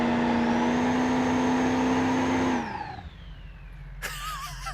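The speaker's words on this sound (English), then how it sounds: "See, can it still spin these tires?" Goofy car called Wendy the Wendover in BeamNG.Drive, engine held at a steady high rev with tires spinning, then cutting off sharply and winding down, followed by a brief burst of higher-pitched noise near the end.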